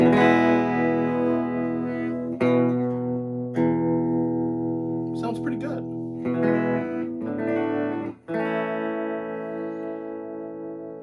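Electric guitar chords from a 2021 Epiphone Les Paul Special TV ring out through a Fender Vibro Champ reverb '68 reissue tube amp with a 10-inch speaker, sustained with reverb tails between strums; a voice briefly speaks near the end.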